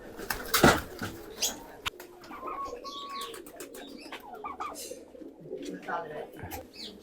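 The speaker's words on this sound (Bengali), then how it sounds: "আমাদের কবুতরের সাথে আসছে উড়াউড়ি করতেছে এখন হচ্ছে গিয়ে নামার চেষ্টা করতেছে" Pigeons, including a white one, flutter and flap their wings as they fly around a loft and try to land, with brief close wingbeat bursts, soft cooing and other bird calls over an outdoor background.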